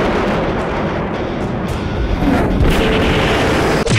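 A giant kaiju monster fires a blast, giving a loud, dense roaring explosion effect that rumbles continuously for a few seconds with a brief sharp crack near the end.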